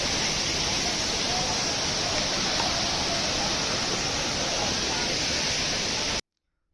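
Sariya waterfall roars as a steady, loud wash of rushing water, constant and unbroken, before cutting off abruptly at the end.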